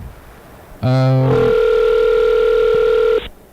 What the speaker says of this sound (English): We can call Mark